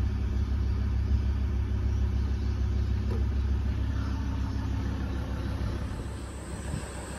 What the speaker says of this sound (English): vehicle running. Alternator charging.